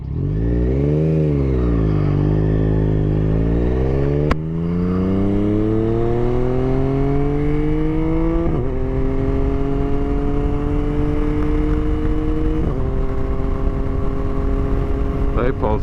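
A 2022 Yamaha Tracer 9 GT motorcycle engine revs and pulls hard through successive gear shifts, pitch climbing and dropping at each change, loud and close with wind rush throughout.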